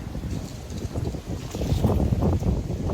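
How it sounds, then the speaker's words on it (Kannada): Strong wind at a tree park in Chikkodi buffets the microphone with a steady, loud low rumble and gusty roar throughout, with no one speaking. "ಗಾಳಿ ಅಂದ್ರೆ ಸಿಕ್ಕಾಪಟ್ಟಿ ಐತ್ರಿ"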